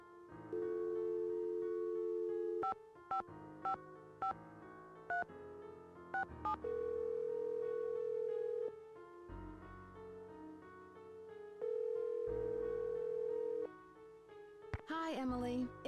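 Touch-tone keypad beeps and steady dial tones from a telephone in the Nancy Drew computer game Message in a Haunted Mansion, with sustained tone stretches broken by short dialing blips and a ringback near the end.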